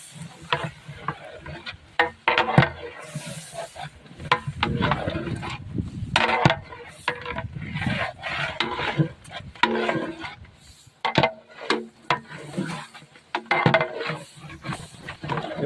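Chicken biryani masala, freshly salted, is stirred in a pot with a spoon: irregular scraping and clinking strokes over a soft sizzle, close and fairly loud throughout.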